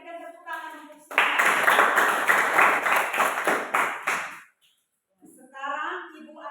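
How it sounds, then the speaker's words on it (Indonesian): A group of students clap their hands together in a classroom, a loud sustained burst of applause lasting about three seconds that fades out, with a teacher speaking before and after. "Kita berikan tepuk tangan untuk semua."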